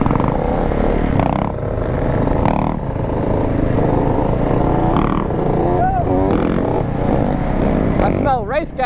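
A 450 dirt bike riding a lap at a lot, its engine droning and revving up and down with sharp rising whines near the end, under people talking.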